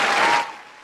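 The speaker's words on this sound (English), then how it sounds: "let me hit the round of applause" A brief canned round of applause sound effect, a dense burst of clapping that cuts off and trails away in under a second.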